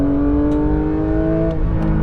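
A Porsche 911 GT3 with its rear-mounted engine holds a loud, steady high-pitched drone as it powers along a race circuit, close and continuous with no talking.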